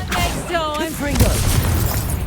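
A Confringo fire-blast spell in Hogwarts Legacy goes off as a short, loud, booming burst right after a shouted voice, with a rumbling tail.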